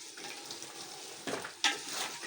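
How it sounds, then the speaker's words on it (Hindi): Mutton with tomato and onion fries quietly in a pot, a soft low sizzle with two sharper scrapes as it is stirred, fairly faint and without speech. "अब बस इसको अच्छी तरह से मिक्स करके मैं इसकी भुनाई करूँगी।"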